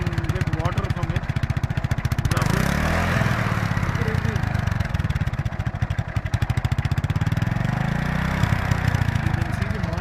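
An idling engine pushes exhaust and moisture through its silencer in Pakistan, giving a steady, close, rapid chugging pulse throughout, with voices talking over it.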